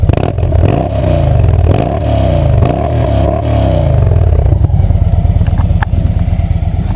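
Victory Magnum motorcycle V-twin engine running loud and close, with a steady deep throb, a few rising revs early on and some induction noise, alone without talk.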